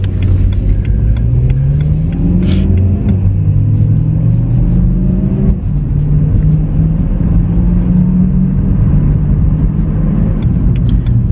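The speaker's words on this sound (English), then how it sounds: "just a high revving engine itself" A Mercedes S65 engine revs loud and close, its pitch climbing in repeated sweeps over a steady low rumble, then easing and rising again with no talk over it.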